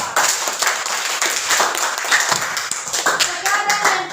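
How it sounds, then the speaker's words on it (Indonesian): Students in a classroom clap for a presenting group, a lively burst of many hands clapping close by, steady and fairly loud over a few seconds. "Tepuk tangan dulu untuk kelompok 4."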